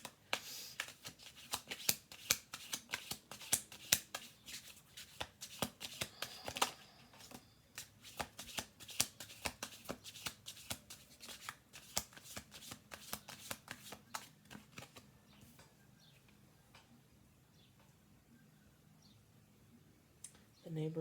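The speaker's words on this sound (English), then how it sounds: "We're going to do 2 more shuffle throughs on this." Tarot cards shuffled by hand in repeated riffling bursts and soft clicks, close and fairly quiet, with faint background music and occasional voice in the distance.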